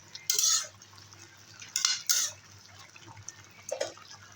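An okra and fish roe curry cooks in a pan, with several sharp scraping and stirring bursts against the metal and a soft liquid sizzle in between, close and fairly loud.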